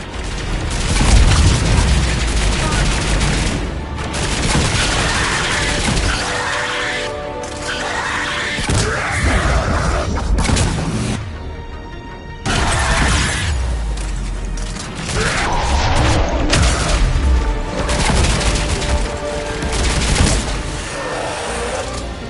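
Sustained gunfire in a Mass Effect 3 battle, with dense rapid volleys, booming impacts and mechanical clanks layered throughout, loud and nearly continuous, with a short lull midway.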